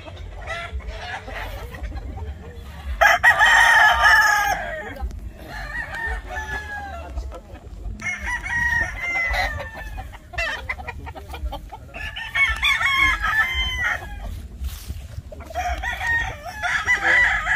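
Sweater and Boston gamefowl roosters crow at a gamefarm, several loud, drawn-out crows in succession with clucking and other fowl noise between them.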